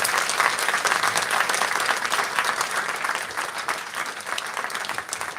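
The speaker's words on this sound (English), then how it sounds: "Please give Dr Emma Shortis a round of applause." A pub audience at an Australia Institute Politics in the Pub talk applauds a guest speaker, with dense, crackling hand claps going on continuously and fading a little near the close.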